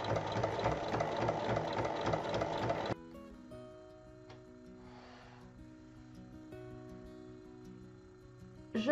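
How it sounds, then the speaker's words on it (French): A sewing machine stitches down the length of a folded fabric strip, running fast and loud for about three seconds, then stopping; quieter mechanical rattles and light handling noises follow. "il faut piquer sur toute la longueur"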